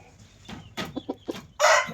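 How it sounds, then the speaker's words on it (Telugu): Chickens at a poultry farm in Warangal cluck in short, close bursts, and a louder, drawn-out squawk comes at the end. "రోహిత్ కోళ్ళ ఫామ్ మాది"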